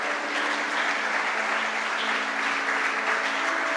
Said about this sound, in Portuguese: Comece a aplaudir Jesus, porque Deus está falando aqui hoje